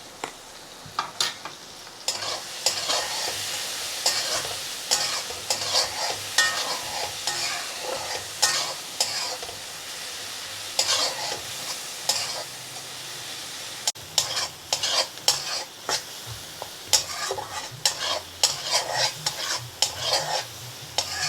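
Ground spices with coriander and cumin powder for a Bengali fish curry sizzle in a hot pan, with a steady fry hiss broken by frequent scraping stirs of a spatula against the metal.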